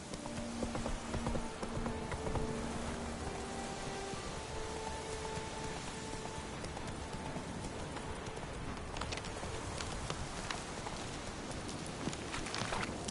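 Roach, a horse in The Witcher 3, gallops with rapid rhythmic hoof clip-clops over steady rain and ambient game sound, heard alone without talk at a moderate distance.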